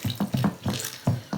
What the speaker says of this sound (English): I'll start adding some water